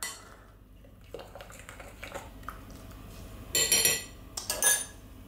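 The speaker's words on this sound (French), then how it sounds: "Je continue de mélanger" A utensil stirring a vegetable and egg batter in a bowl, soft wet scraping at first, then louder bursts of spoon clinking and knocking against the dish, close by with no talking.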